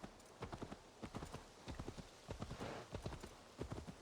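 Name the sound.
horse clip-clopping in a video game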